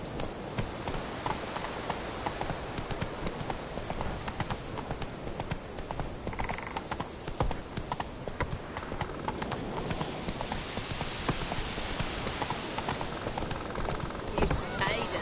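Roach the horse galloping in The Witcher 3, a rapid, continuous clip-clop of hooves close by across the whole stretch, with faint ambient game sound underneath.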